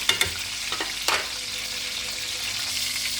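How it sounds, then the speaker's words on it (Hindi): Eggplant fries in a pan with a constant crackling sizzle, opening with a few sharp stirring scrapes and knocks before settling into a steady hiss, close and without speech. "जलाना नहीं है इनको, बस इनको फ्राई करना है"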